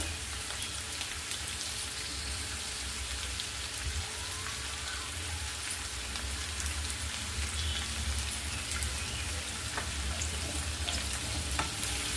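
Chopped carrots, beans and other vegetables for veg fried rice sizzling and being stirred in a frying pan, a steady dense crackle with soft scraping throughout, close and even, no talking.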